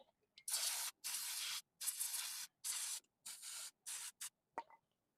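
WD-40 sprayed onto a dirty sensor removed from the intake manifold of a first-model Perodua Myvi, heard as a series of close, sharp hissing bursts of varying length separated by short silences.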